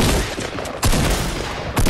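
Shotgun blasts in a video game, three loud, booming shots spaced just under a second apart, each one close and heavy with a short, rough decay.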